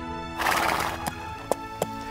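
A horse neighs in a long, loud whinny, followed by several sharp separate hoof clops at an uneven pace, close and clear.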